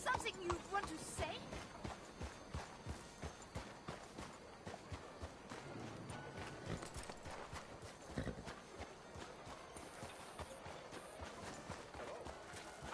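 Hooves of a horse in a video game clatter in a steady galloping clip-clop, fairly close, with faint game voices and ambient sounds underneath.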